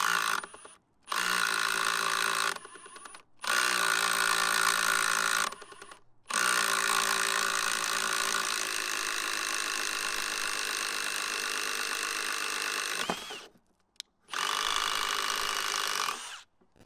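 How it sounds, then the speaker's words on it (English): A Milwaukee Surge hydraulic driver spins a 1-inch Irwin speed bore bit through a 2x4, running in several loud, steady bursts separated by short pauses, with no talk. "let's see how this hydraulic driver does with a 1-inch speed bore bit by Irwin. We're going to be boring a 1-inch hole through this 2x4"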